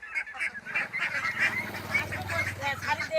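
A flock of about fifty farm ducks kept penned together, honking and quacking continuously in a dense, overlapping chorus at close range, with a few faint voices in the background.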